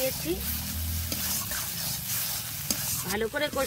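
Spinach and shrimp stir-fried in a pan, a close sizzle with scraping spatula strokes and brief clanks, and a voice speaking faintly under it near the start and end.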